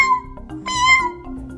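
A cat meowing inside a cupboard, one clear, drawn-out tonal meow rising and falling over about a second and a half, close and loud.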